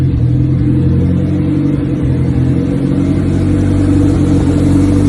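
A Honda B16 engine with a turbo kit idles steadily nearby with a constant low, humming rumble throughout, no speech.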